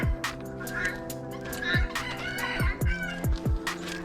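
Chickens and a rooster cluck near and loud outdoors on a windy day, with repeated sharp calls and overlapping clucks in an irregular rhythm, plus occasional scuffling.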